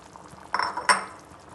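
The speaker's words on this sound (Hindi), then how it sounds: "अब जो है आलू इसमें ऐड कर देते हैं।" Chopped potatoes tipped into a pan of cooking beef keema, two short clattering, sizzling bursts close by against a quiet simmering background.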